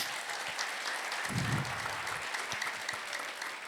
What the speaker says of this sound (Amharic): አባቶች አጨብጭቡ በደንብ